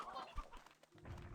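Elder hen in the Slime Rancher 2 video game clucking in short, soft bursts amid busy game sounds and music, fairly faint and close.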